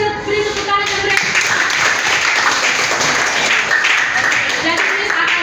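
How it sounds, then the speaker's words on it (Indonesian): Classroom applause from primary school pupils during a lesson, a steady wash of clapping lasting several seconds with voices mixed in. "Coba dulu kita beri tepuk tangan"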